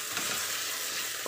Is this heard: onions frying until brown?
yes